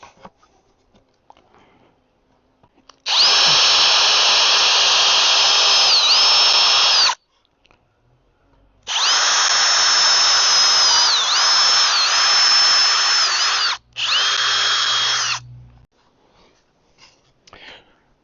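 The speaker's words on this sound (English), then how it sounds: "Drilled a couple holes in here." A power drill bores holes into a 2x4 in three bursts: two long, steady high whines and a short final one, loud and close, separated by quiet gaps with faint handling noises.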